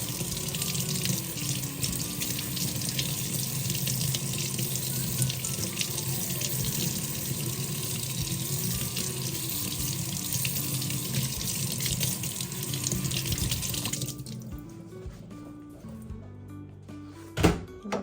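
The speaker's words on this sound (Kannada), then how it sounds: "ವಾಶ್ ಮಾಡ್ತಾ ಇದ್ದೀನಿ." Doddapatre leaves are washed under a running kitchen tap, giving a steady, close rush of water that continues for about fourteen seconds before stopping, followed by a few small clatters.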